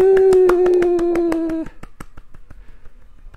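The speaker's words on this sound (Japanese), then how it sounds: "拍手" Hand clapping in quick, regular rhythm opens a live broadcast, under a sustained tone for the first half, then thinning into sparser, softer claps.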